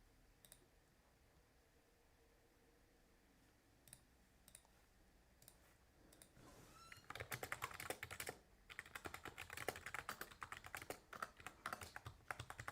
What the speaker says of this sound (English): I have to use my laptop keyboard.